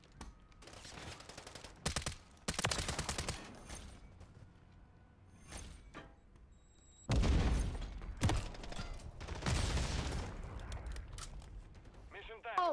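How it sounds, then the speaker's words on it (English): Turret gun fire in a video game, heard as several loud bursts of rapid shots separated by quieter stretches, with a voice talking in between. "Running into that turret gun."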